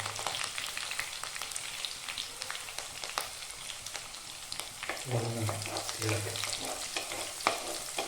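Sliced green chillies frying in oil in a pan, a continuous soft sizzle with frequent stirring scrapes, fairly quiet and close, with a faint low hum partway through.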